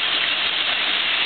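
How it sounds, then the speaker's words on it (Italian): Heavy hail mixed with rain pelts down during a violent cloudburst at Santa Maria delle Mole near Marino Laziale, a dense, continuous hiss and clatter without pause. "moriva pure la grandine"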